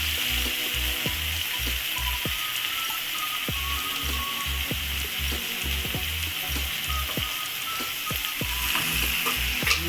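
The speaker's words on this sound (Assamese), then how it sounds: "এতিয়া আমি এইখিনি অকণমান ফ্ৰাই কৰি ল'ম।" Catfish sizzles steadily in a hot pan for an Assamese dish, a dense, continuous frying crackle punctuated by rhythmic clacks of a spatula stirring, close and loud.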